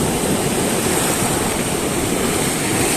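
Strong ocean waves pounding at a seaside fishing spot make a dense, continuous roar with no letup, loud and close, with no voices over it.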